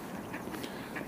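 Ducks on an outdoor pond give a few faint, distant quacks over soft ambient hiss during a brief moment.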